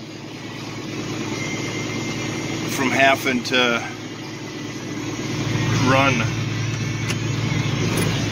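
A tractor engine idles steadily at close range while hay bales are wrapped, a constant low rumble under a voice that talks over it in short bursts.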